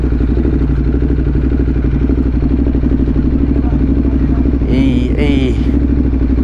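A Ducati Hypermotard idles close by at a rev-ride meet outside a cafe, its engine giving a loud, steady, throbbing rumble, with a brief higher mechanical whine near the end.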